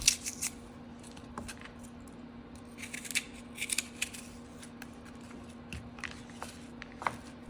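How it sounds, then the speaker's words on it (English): Paring knife cutting the cores, seeds and stems out of apples, heard as a run of quiet, close, crisp clicks and scrapes that come in irregular bursts over a faint steady hum. "Then you're going to go back with your paring knife and just get all of that middle part out, get the seeds out, get the stem off."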